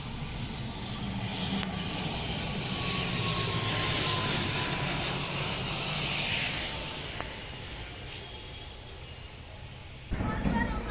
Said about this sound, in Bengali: এইটিআর মডেলের এই বিমানটি এগিয়ে আসছে নামার জন্য